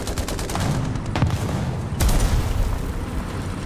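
Gunfire and booming impacts from War Thunder ground realistic battle with an LVT tank, shots cracking repeatedly at close range over a constant rumbling engine-and-battle din, a heavy burst near the middle.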